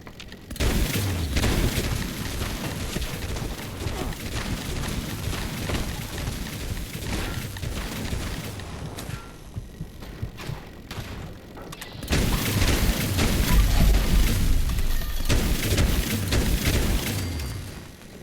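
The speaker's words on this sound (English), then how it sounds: "I hear a rocket launcher use." Rocket launcher blasts echo indoors in the video game Fallout 76, with sustained booming explosions and rumbling debris throughout, swelling louder near the end.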